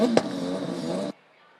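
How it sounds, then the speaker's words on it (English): A Formula Student race car engine sits bouncing on its rev limiter before a launch, a loud buzzing, stuttering rasp with a sharp crack near the start that cuts off abruptly into quiet. "the driver will put it into the rev limiter and drop the clutch. It's a really interesting sound when it's in the limiter"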